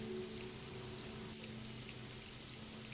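Rain falls in a faint, steady patter, a continuous wash of drops with no other sounds.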